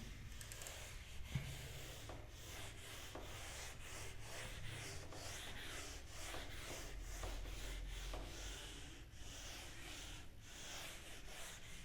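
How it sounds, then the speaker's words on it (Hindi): A board eraser rubs out writing on a classroom board, giving a steady, continuous scrubbing with rhythmic back-and-forth strokes, close and fairly loud, with no talk over it. "चलो ये रब कर दूं।"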